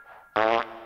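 A short, comic digital fart from Abe in Oddworld: Abe's Oddysee, a single buzzy burst lasting about a quarter second, loud against faint game ambience.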